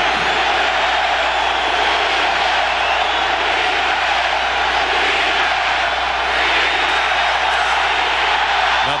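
Loud, steady roar of a packed football stadium crowd at a 1992 Kansas versus Nebraska college game, a dense continuous wall of noise filling the whole stretch with no pauses.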